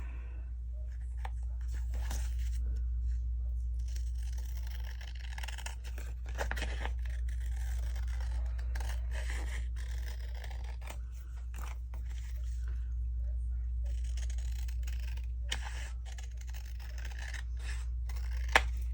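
Scissors snipping and trimming paper for a craft piece, small soft cuts and rustles spread sparsely over a constant low electrical hum, close and quiet, with no talking.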